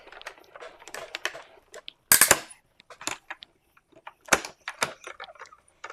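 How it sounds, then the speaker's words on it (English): A coordinating die cuts out a card greeting during cardmaking, producing scattered close clicks, taps and one loud crunching burst of handling and pressing, with quiet gaps between. "Let me grab the coordinating die. I'm going to go ahead and cut out this"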